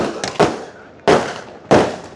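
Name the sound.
firecrackers bursting at celebration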